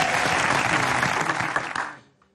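Studio audience at a stand-up comedy show bursts into sustained, loud applause that holds steady before fading out near the end.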